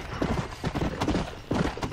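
Horse hooves clip-clop in steady repeated beats in the video game Red Dead Redemption, close and fairly loud, with no talk over them.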